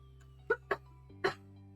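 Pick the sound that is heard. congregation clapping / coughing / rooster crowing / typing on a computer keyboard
coughing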